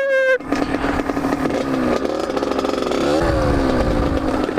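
A motorcycle roars past close by with its engine revving hard as the rider lifts the front wheel, the pitch climbing and then wavering, while a voice calls out briefly under the engine noise.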